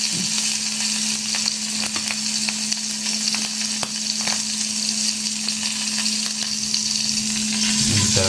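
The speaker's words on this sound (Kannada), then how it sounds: "ಲೋ ಫ್ಲೇಮಲ್ಲಿ ಇಟ್ಕೊಂಡು ಇದನ್ನು ಚಿಲ್ಲಿ ಎಲ್ಲ ಮಿಕ್ಸ್ ಮಾಡಿ ಹಾಕಬೇಕಲ್ಲ?" Chilli fries in a pan on a low flame while it is stirred for pulao. A steady, close sizzle runs throughout, broken by light scraping and clinks from the stirring, and no one talks.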